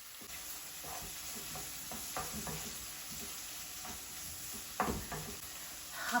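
Onions with cardamom sauté in a pan in a steady, crackling sizzle, broken by scraping stirs and light knocks of a spoon against the pan, close by and fairly even in volume.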